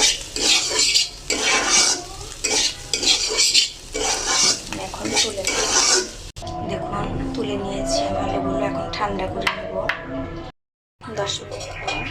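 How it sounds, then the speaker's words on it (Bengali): Potatoes for samosa filling stirred and fried in a pan: repeated loud scraping and clattering of a utensil against the pan over a frying sizzle, with someone talking throughout and a brief drop to silence near the end. "আলুগুলো আমি এইভাবে নেড়ে নেড়ে ভালো মিশিয়ে একটু লাল কালো হয়ে গেছে"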